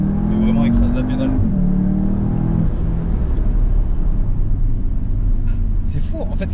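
Car engine climbs in pitch with the accelerator floored, then falls off sharply into a low rumble of road and cabin noise as the car slows, heard from inside close up.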